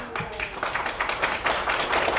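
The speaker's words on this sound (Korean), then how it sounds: "자꾸 박수 치지 마요." Audience applause at a 2017 lecture, a dense continuous patter of many hands clapping throughout, fairly loud and steady with no talking.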